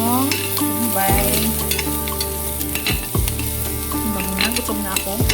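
Chopped onion dropped into hot oil in a pan, giving a loud, steady sizzle that runs throughout, with tonal background sounds layered over it.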